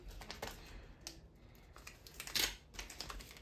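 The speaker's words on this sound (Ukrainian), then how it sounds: "давайте заразом і цей пакетик відкриємо" A small plastic packet is torn and crinkled open during an unboxing, giving a run of close, dry rustling and crackling bursts with one louder rip near the end and no talking.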